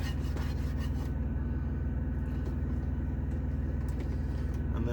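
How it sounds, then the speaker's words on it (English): A spatula scrapes cooked-on residue from the bottom of a pan in a cooking setup inside a truck. The rasping is steady and fairly quiet, with continuous rubbing strokes and no talking. "If you have some stuff on the bottom where the burner was, scrape it off with the spatula."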